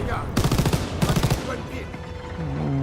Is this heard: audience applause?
no